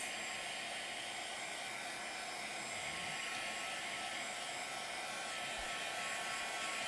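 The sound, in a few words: heat gun drying a stamped card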